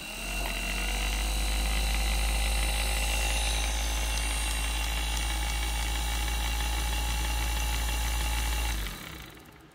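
A 1976 Cadillac Eldorado convertible top power motor with gear drive runs steadily and loudly for about nine seconds, giving a constant mechanical whir and hum before abruptly stopping.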